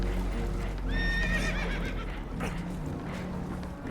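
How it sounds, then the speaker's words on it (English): A spooked horse gives a loud, close whinny lasting about a second, with hooves clopping and shuffling afterward over background noise. "Horses are spooked"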